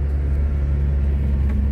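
A 1999 Opel Frontera B 2.2 DTI diesel drives along a road, heard from inside as a steady, loud low engine and road rumble that holds evenly throughout with no talk.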